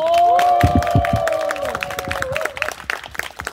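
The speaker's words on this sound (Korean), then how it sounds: "한 박수 한번 쳐주십시오." An audience at a health forum for people with disabilities claps in a quick burst with some cheering, while a sustained wavering tone rings over it; the clapping loosens into scattered claps as it fades.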